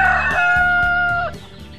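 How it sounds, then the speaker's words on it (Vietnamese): A cartoon rooster crows loudly and close, one long drawn-out cock-a-doodle-doo with a falling end, followed by a few soft clucks. "Tiếng gáy của anh to vang đã đánh thức cô chủ dậy sớm."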